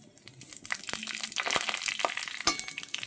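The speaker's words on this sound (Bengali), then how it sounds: "এবার ওই বড়ি ভাজার তেলে আমি দিয়ে দেব শুকনো লঙ্কা ফোড়ন আর দিয়ে দেব এটা পাঁচ ফোড়ন" Dry red chillies and five-spice seeds, dropped into hot oil left from frying lentil dumplings, crackle and spit in a dense, close sizzle with sharp pops scattered throughout.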